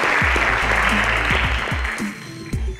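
A quiz show audience of Nigerian school competitors and spectators claps loudly and densely for a correct answer, a near, sustained burst of applause fading slightly toward the end with a few low thumps.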